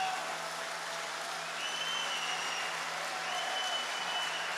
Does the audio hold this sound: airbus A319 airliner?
no